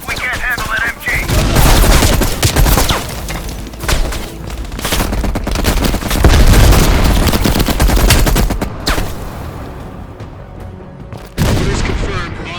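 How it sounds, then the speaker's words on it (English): Sustained automatic gunfire and explosions from a machine gun emplacement in the Call of Duty: Black Ops Cold War video game, loud and dense with heavy booms, dropping away briefly near the end before resuming. "Mel, we'll never get to the AA gun if we can't handle that MG"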